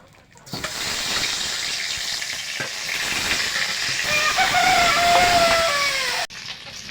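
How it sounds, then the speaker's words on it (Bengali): Snakehead fish pieces fry in hot oil with a loud, steady, close-up sizzle that starts abruptly and holds for several seconds before cutting off. "মাছগুলো ভেজে নেব। এই মাছগুলো ভেজে নেব।"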